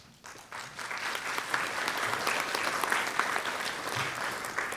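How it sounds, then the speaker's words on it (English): Sustained applause from a large audience at an annual general meeting, steady and fairly loud throughout, with no one speaking over it. "so the applause goes for her"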